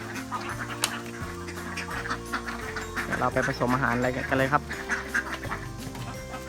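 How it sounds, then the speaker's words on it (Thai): Many laying ducks on a farm quack in a noisy, overlapping chorus as they grow hungry, while someone talks over them nearby. "พอเป็ดเริ่มร้องแล้วครับ เริ่มหิวแล้วครับ"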